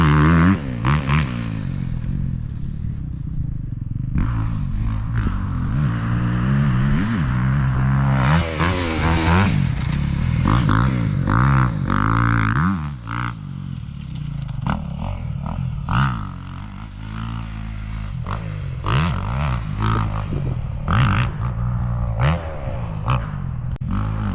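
A new 2023 Honda CRF250 dirt bike rides a muddy track, its engine droning and revving close by, rising and falling through gear changes with clattering from the ride throughout.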